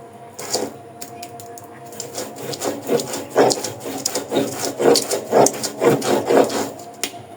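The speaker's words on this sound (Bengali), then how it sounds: "কালিজিরাটা বাটা শেষ" Black cumin seeds are ground by hand on a flat grinding stone, giving a close, steady series of rough rubbing and scraping strokes that gradually grow louder and quicker. No one speaks over the grinding.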